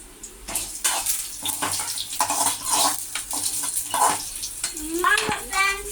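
Ingredients for carrot chutney frying in a pan, an uneven sizzle with clattering stirs and scrapes throughout, plus a brief squeaky metallic sound near the end, while someone talks over it.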